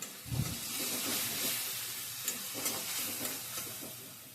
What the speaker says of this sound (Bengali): টমেটো পিউরিটাও মিশিয়ে দিচ্ছি